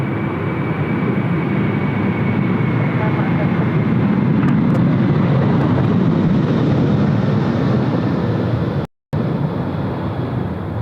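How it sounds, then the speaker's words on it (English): A Finnair airliner bound for Bangkok takes off from Sydney Airport, its engines producing a loud, steady broadband roar that holds throughout, briefly cut by a moment of silence near the end. "Finnair off to Bangkok."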